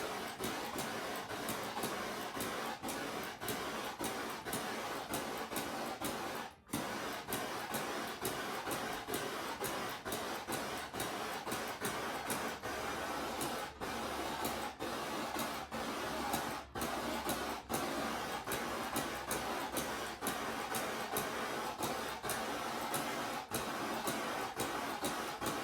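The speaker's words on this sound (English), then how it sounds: "Берем газ, you take propane," Propane torch heating a surface, a steady, dense hiss and roar running close and continuously, broken by only a couple of brief dips, with no talking.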